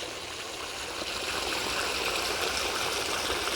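Water cascades from a metal pipe over a concrete patch beside an abandoned railroad culvert, giving a steady, moderately distant splashing rush without any talking.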